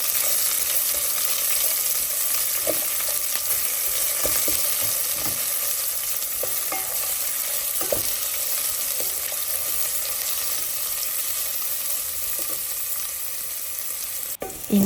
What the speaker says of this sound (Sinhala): ඊළඟට මම කරඬු මුංගු, කරාඹු නැටි, කුරුඳු පොතු, ඒ වගේම ගම්මිරිස්, ලූණු එකතු කරගන්නවා. ඊට පස්සේ හොඳින් මික්ස් කරගන්නවා.